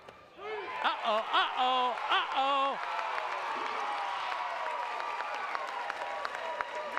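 A crowd at a Division III state semifinal softball game between Louisville and Madison reacts to the home plate umpire's strike call with loud whoops and yells, then sustained cheering and applause that carries on steadily.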